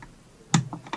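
A piston clip snapping into its groove on a chainsaw piston during engine work, a short sharp click near the middle followed by a couple of lighter clicks, close and alone.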